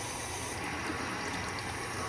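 Tap water runs steadily into a sink for handwashing in a sterile products lab, a continuous even hiss and splash at moderate level with no breaks.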